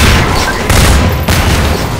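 A grenade launcher blast in Half-Life 2 gives loud close booms, with two bursts of broad noise and a rumbling tail in between.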